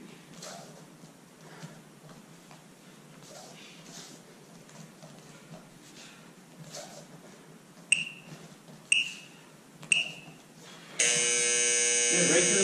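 A voice counts along over faint background music during a kickboxing workout, then several sharp electronic timer beeps sound one after another, ending in a long continuous loud buzz.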